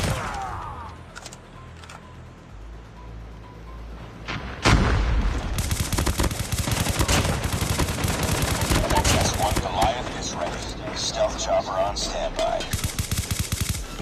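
Sustained automatic gunfire from Call of Duty Mobile erupts after a quieter opening and keeps rattling loudly and continuously, with a player's voice talking over the shooting.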